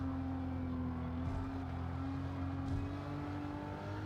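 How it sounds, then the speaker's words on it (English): A GR Supra RZ drifting through a corner on the Tokyo Expressway in Gran Turismo 7, its engine holding a loud, steady, sustained drone with a hint of tyre noise throughout. "There she is, drifting again."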